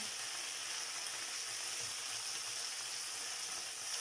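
Steady, close sizzling of noodles stir-frying in a hot pan over lowered heat, a continuous hiss with faint scraping of stirring.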